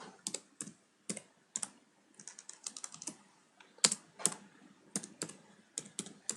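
A computer keyboard being typed on while an HTML page is written, with quick close-up clusters of crisp key clicks in an irregular rhythm separated by short pauses, in an otherwise quiet room.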